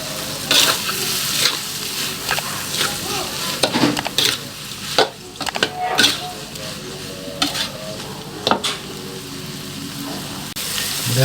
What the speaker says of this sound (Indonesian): Dan aduk kembali.